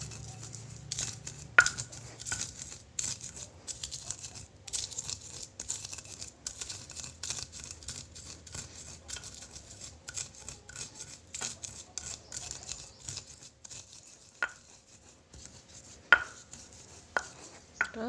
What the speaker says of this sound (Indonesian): Terus kacangnya kita haluskan